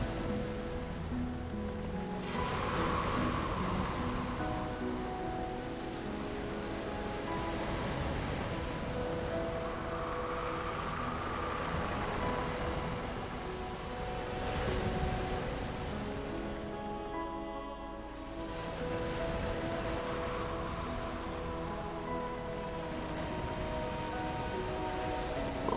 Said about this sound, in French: Au rythme du tempo régulier des vagues